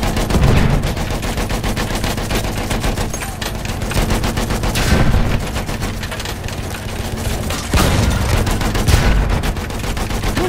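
Gunfire in the video game Battlefield 1 during an attack with an anti-aircraft gun and tank: loud, continuous rapid bursts of automatic fire, with heavier shots punctuating the clatter at intervals.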